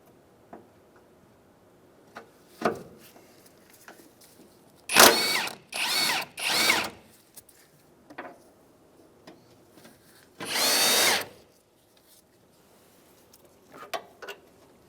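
Power tool zipping out 14mm transmission mount bolts on a Mazda CX-9, three loud whirring bursts close together, then one longer burst, with quiet clicks and tool handling between them.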